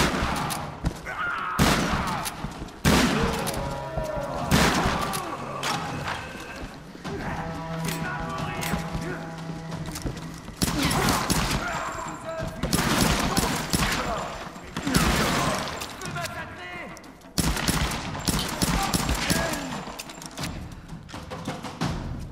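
Gunfire in the Tomb Raider video game, with repeated loud, sharp shots in rapid bursts mixed with other busy game sounds throughout.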